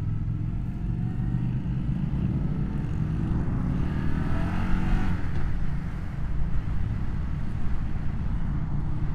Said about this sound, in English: we're gonna take it on the freeway, see how she does